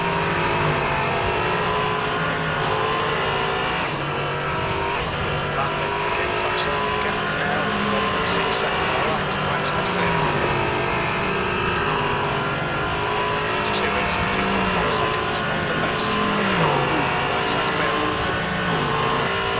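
Many race car engines roar together in an online multiclass endurance sim race with LMP3 and GT cars, a dense, continuous wash of engine drone and shifting revs throughout, steady and loud with no break.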